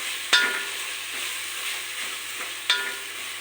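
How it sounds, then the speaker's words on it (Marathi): Masala spices frying in a pan while being stirred, a soft steady sizzle broken by two sharp scraping clacks of the spoon against the pan. "आता हे असा मसाला भाजून घेतलाय."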